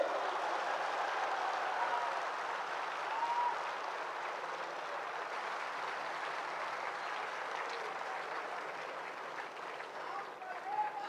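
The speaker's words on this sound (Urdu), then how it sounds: "ڈاکٹر ذاکر نائک صاحب کا بھرپور تالیوں میں استقبال کیجیے" Large audience at Dr. Zakir Naik's lecture in Karachi giving sustained applause, a broad, even roar of clapping from a distant crowd with faint voices mixed in.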